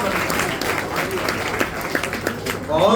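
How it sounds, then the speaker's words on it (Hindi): An audience gives steady, dense applause after a patriotic poem recitation at an Independence Day poetry event. It runs loud and continuous for a few seconds while a voice speaks over it. "जोरदार तालियां त्रिलोक जी के लिए"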